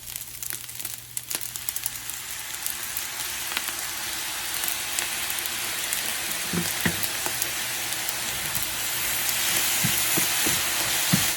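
Sweet and spicy Indonesian nasi goreng fried rice with sweet soy sauce sizzling in a hot pan, a steady close hiss with occasional stirring scrapes and soft crackles, no voices.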